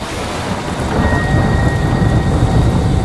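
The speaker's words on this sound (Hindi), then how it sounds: "कितनी तेज बारिश हो रही है।" Heavy rain pours down in a steady, loud hiss while thunder rolls low and continuous underneath, a dense storm with no voices.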